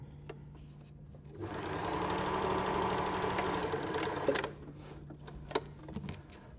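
A sewing machine stitches a simple tote bag, its fast motor whir and needle chatter running steadily for a few seconds before stopping, framed by quieter handling clicks and taps.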